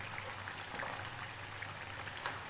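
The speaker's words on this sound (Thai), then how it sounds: "ทอดไปเรื่อยๆนะคะจนกว่ามันจะเป็นสีน้ำตาลให้เป็นสีประมาณนี้นะคะ" Strips of potato deep-frying in hot oil for an Indian sattvic-style dish, a steady soft crackle and fizz that hangs at an even level throughout, close by with no talking.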